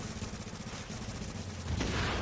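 A quick burst of gunshots from The Division, muffled and fairly distant, fires in a rapid series and swells louder toward the end.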